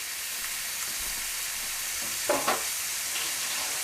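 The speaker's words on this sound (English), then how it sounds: "Now we're going to sear both sides before we add the rest of our ingredients." Meat searing in a hot pan before the other ingredients go in for a Greek Southern meal, a soft continuous sizzle with a brief louder crackle and clatter partway through.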